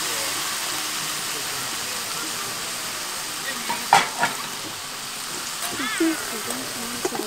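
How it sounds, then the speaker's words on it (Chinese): Steak sizzles in a pan at a campsite with a constant hissing crackle, marked by a few sharp clicks and pops partway through, while a voice speaks briefly near the end. "先煎牛排。"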